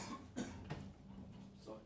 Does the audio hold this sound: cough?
yes